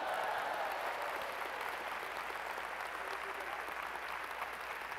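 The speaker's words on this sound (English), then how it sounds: "The crowd applauds wildly." Enthusiastic applause from an audience after a juggling act at a corporate keynote show, a dense steady roar of clapping that fills the whole stretch at full volume.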